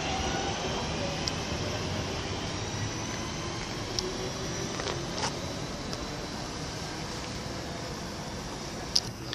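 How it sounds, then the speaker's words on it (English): A passenger train pulling slowly into Cheadle Hulme station, a steady broad rumble and hiss at moderate distance with a few faint metallic clicks and squeaks, no voices. "11:28, I think, or 29, service to Manchester Piccadilly from Crewe."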